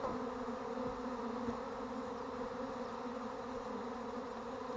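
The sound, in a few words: honey bee swarm buzzing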